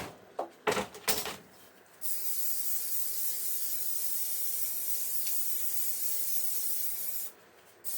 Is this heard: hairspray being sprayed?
yes